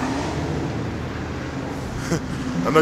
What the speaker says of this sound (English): I know you can hear the cars in the background